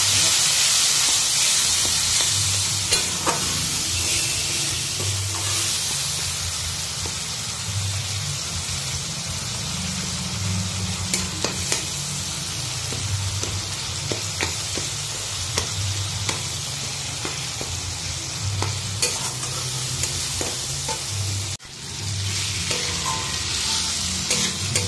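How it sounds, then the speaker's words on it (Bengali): Masala with garlic paste sizzling in a pan as water is added and it is stirred, a steady loud hiss with frequent scraping and clicking stirs and a sharp knock near the end, close by with no talk. "তো হালকা একটু জল দিয়ে দিই, মশলাটা কষিয়ে নিই।"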